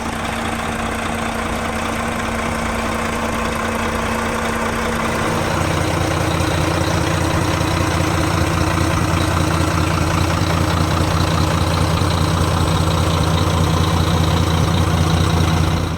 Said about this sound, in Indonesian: kondisi pada saat posisi idle, teman-teman. Volvo D11C